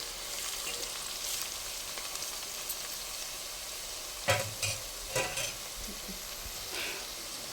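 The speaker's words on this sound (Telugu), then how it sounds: "ఉల్లిపాయ మంచిగా వేగింది మనకి." Onions fry in a pan with a steady, close sizzle, broken mid-way by a few brisk scraping stirs of a spoon against the pan.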